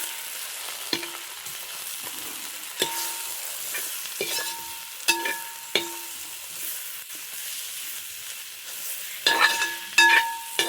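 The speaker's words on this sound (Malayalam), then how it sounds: "നന്നായിട്ട് എല്ലാം കൂടി യോജിപ്പിച്ചെടുക്കാം." A spoon stirs chicken masala, garam masala and Kashmiri chilli powder in a hot pan for a simple chicken curry, steady sizzling frying with repeated sharp scraping and tapping strokes against the metal.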